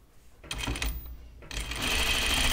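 A sewing machine stitching a skirt hem runs in two bursts, a short stuttering run followed by a steadier, louder whir, alone without talk.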